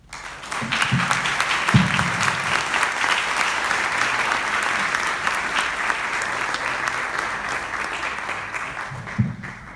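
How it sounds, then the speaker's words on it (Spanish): An audience claps steadily after a conference talk on comprehensive planning of higher education, with full, sustained applause lasting several seconds and a few voices underneath. "Fuerte el aplauso para el doctor Álvarez."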